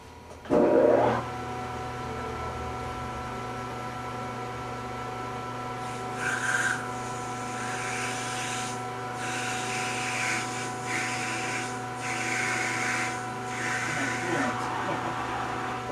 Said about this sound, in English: I think we're going to part this guy off and slow it down a little bit.